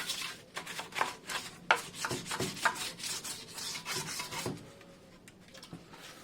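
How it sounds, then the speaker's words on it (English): An old barbecue spatula scrapes old coating off a Triumph TR7 front suspension part, giving a series of uneven rasping strokes, some sharp and some longer, close by and with no voices. "I managed to scrape it all off pretty easy. Yeah, that's an old barbecue spatula."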